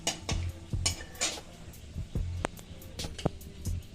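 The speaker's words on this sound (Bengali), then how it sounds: "এই তেলের মধ্যে ফোড়ন দিয়েছি তেজপাতা, শুকনো লঙ্কা, এলাচ আর দারচিনি।" Whole bay leaf, dried chilli, cardamom and cinnamon drop into hot oil to temper, giving a few soft sizzles under repeated clinks and scrapes of a metal spoon against the pan in an irregular rhythm.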